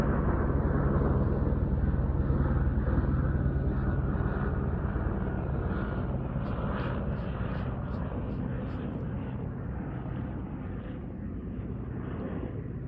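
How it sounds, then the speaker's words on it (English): A helicopter passes overhead as a steady, loud broadband rumble and rotor wash that fills the whole stretch, gradually easing off, with faint rhythmic thumping partway through and no talk over it. "I'll wait for the helicopter for just a second."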